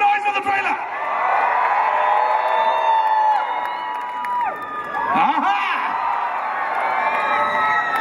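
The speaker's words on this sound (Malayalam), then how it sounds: "everyone make some noise for the trailer" A crowd at the Dubai lounge launch of the Guruvayoorambala Nadayil trailer with an actor cheers loudly and continuously, with whoops and high shouts rising over a sustained roar of voices for about eight seconds, dipping briefly mid-way.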